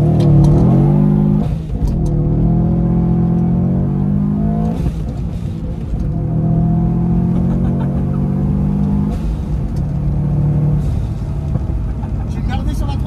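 Subaru WRX STI rally car with about 450 hp launching hard from a standstill, its loud engine climbing through revs and shifting gears, heard from inside the cabin while people talk over it.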